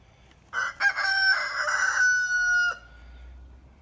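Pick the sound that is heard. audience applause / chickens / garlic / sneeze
chickens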